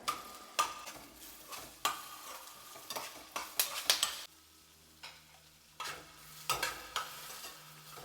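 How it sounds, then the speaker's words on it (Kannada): Curry leaves frying in hot oil in a pan, giving a soft sizzle broken by sharp crackles and spoon scrapes as they are stirred, with a brief quieter pause before the sizzling picks up again. "ಕರಿಬೇವು ಎಣ್ಣೆಯಲ್ಲೇ ಫ್ರೈ ಮಾಡ್ತಿರೋದಲ್ಲ"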